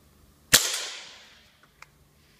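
Crosman 2240 CO2 air pistol firing a single sharp shot with a quick decaying ring, close and loud, followed by a faint click.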